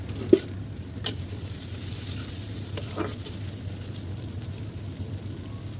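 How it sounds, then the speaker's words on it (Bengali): Chopped onion frying in white oil in a wok on a stove, a soft steady sizzle with a few sharp stirring clinks near the start and around the three-second mark, no speech. "চুলায় প্রথমে আমি কড়াইতে দিয়ে দিলাম কিছুটা সাদা তেল। তারপরে দিয়ে দেবো পেঁয়াজ কুচি"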